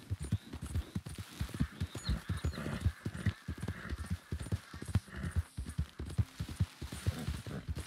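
Horse hooves clip-clop in a steady, continuous rhythm as a horse is ridden in a video game, fairly quiet and with no talking.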